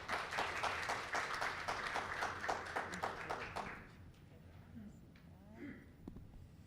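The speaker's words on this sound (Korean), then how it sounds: "큰 박수 부탁드립니다." An audience at a business forum on reemployment training for middle-aged retirees claps for an introduced presenter; the applause is crisp and steady for a few seconds, then stops abruptly, leaving a quiet room with faint shuffling.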